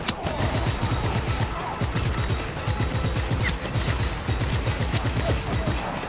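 Enemies fire at the player in Just Cause 3, with dense rapid bursts of automatic gunfire crackling continuously and loudly over a rumbling game soundscape.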